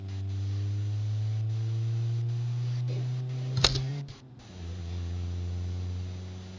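A Citroen diesel car engine in BeamNG.Drive, idling with a steady low hum and a sharp click partway through, followed by a brief dip before the engine drone resumes, close and even.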